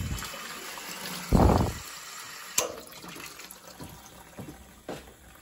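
Water passing through a defective temperature and pressure safety valve on an AO Smith 50 gallon water heater, a faint steady trickle with one brief louder gush and a few small clanks, close by.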